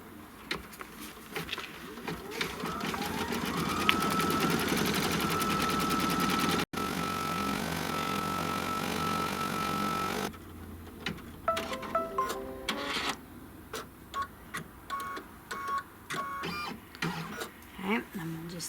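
An embroidery machine stitches a placement line with a rapid, steady mechanical whir and hum, then slows into intermittent clicks and short bursts as a person talks over it.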